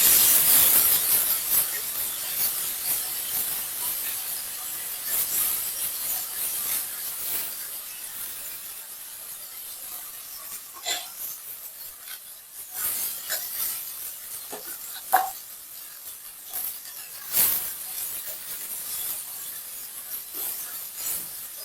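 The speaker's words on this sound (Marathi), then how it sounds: "मसाला इकडे चांगला खरपूस भाजून घ्यायचा आपल्याला" Masala spices roasting and sizzling in a hot pan with curry leaves, a steady soft hiss with occasional louder crackles and stirring scrapes, close and alone without talk.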